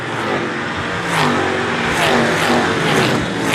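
Race cars scream around a short oval track in the Super Short Track Racing Series, a dense, loud roar of engines with repeated rising revs as cars pass close by in quick succession.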